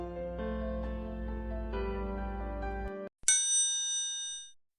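A bright notification bell ding rings out alone after a few seconds of steady mixer-like whirring, its clear chime sustaining and slowly fading.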